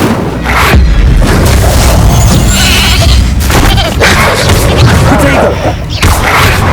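Loud booming blasts of the Incendio fire spell in the Hogwarts Legacy video game, repeated whooshing bursts over a busy, noisy game scene with a voice heard at times.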